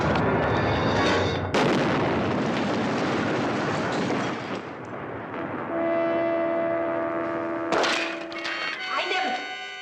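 Gunshots in a 1973 Barnaby Jones TV crime drama episode: two loud, booming shots several seconds apart, with dramatic music and voices around them.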